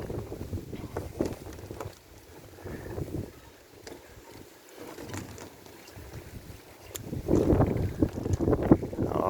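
Wind blows through a garden of cordylines, gusting in low rumbles that fade and swell, with someone speaking briefly and rustling nearby.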